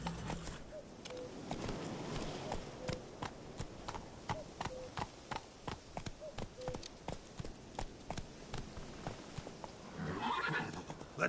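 Roach, a horse in a video game, walks with a regular clip-clop of hooves and gives whinnying neighs near the end, fairly quiet, with a voice speaking occasionally over the hoofbeats.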